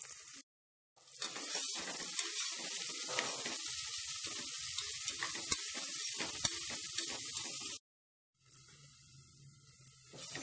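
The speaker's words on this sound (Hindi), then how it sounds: "अब 5 मिनट के लिए हमें प्याज को फ्राई कर लेंगे।" Round-sliced onions fry on high heat in a pan for keema aloo, a loud steady sizzle running nearly the whole time, broken by a short silence near the start and another toward the end, with occasional stirring clicks.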